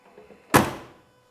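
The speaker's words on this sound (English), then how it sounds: "Door closes nice." A single solid thunk as the door of a 1968 Ford Mustang California Special swings shut, close and short with a quick fading decay.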